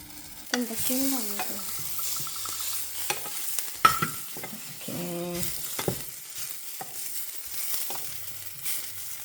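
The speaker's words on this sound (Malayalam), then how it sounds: "അതിൻ്റെ ഒരു റോ സ്മെല്ല് പോണ വരെ ഇളക്കണം കുക്കു." Garam masala and other spice powders fry in a pan, with scraping stirs and clinks against the metal over a soft sizzle, close by, with brief tonal background sounds between strokes.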